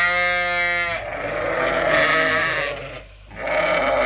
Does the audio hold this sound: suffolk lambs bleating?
yes